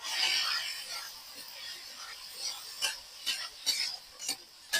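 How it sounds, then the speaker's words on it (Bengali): Leafy greens frying in oil in a village kitchen, a faint steady sizzle with intermittent scraping strokes of a spatula stirring the pan. "এবার আমি এই তেলে শাক দিয়ে দিলাম।"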